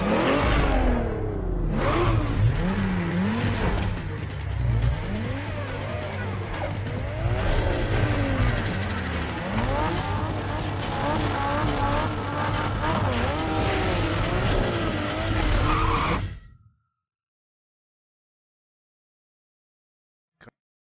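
Car engine revving hard with squealing tires in the street-racing game Need for Speed Underground, loud and continuous for about sixteen seconds before cutting to silence, with someone talking over it.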